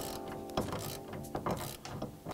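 Wrench ratcheting a 10 mm nut off the sway bar end link on a 2015-later Dodge Challenger, rapid close mechanical clicking in short bursts, loud and continuous, with no voices.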